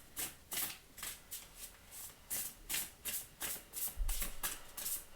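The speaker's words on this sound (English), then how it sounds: "All right, let's pull you an oracle card." A deck of oracle cards being shuffled in steady, rapid bursts, each riffle a crisp papery flutter repeating roughly every half second, close and moderately loud with no talking.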